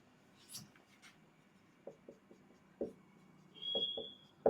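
Pen or pencil scratching out a math solution on paper, close and quiet, in short separate strokes with pauses between them and a soft voice now and then.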